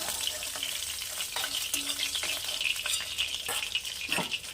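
Fish frying in a small wok, a continuous soft sizzle broken by repeated clinks and scrapes of stirring, close by and without speech.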